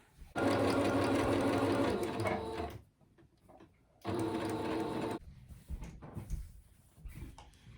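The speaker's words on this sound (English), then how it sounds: "And then I'm going to sew that together." Sewing machine stitching a T-shirt into a pillow sham, running in two steady close bursts with a quiet pause between them, followed by faint handling noises.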